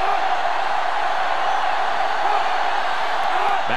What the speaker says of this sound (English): the defense is doing their best to fire up this crowd